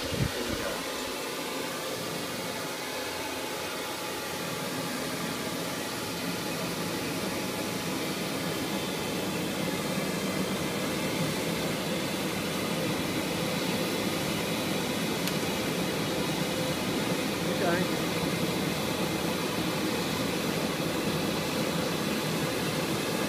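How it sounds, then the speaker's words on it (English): A big blower runs steadily against a burning rocket stove, a loud, constant broadband whoosh and hum that holds unchanged for over twenty seconds with no voices. "we're about to see what happens when we apply the great big blower to it."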